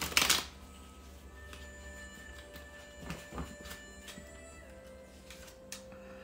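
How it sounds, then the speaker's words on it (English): A short burst of tarot cards being shuffled up close, then quieter riffling and soft handling of cards in a calm room. "We'll do one more shuffle."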